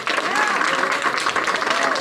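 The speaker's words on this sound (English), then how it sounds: "So you can hear the crowd there with Budzinski at the AFL-CIO yesterday" A crowd at an AFL-CIO news conference claps steadily, a dense, fairly loud patter of applause with voices mixed in.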